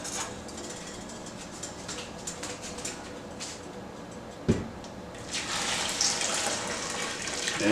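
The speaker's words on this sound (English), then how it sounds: "we're going to simply pour the stock" Beef stock poured through cheesecloth set in a colander, a steady liquid trickle that swells into a louder, broader gush near the end, with a single sharp knock partway through.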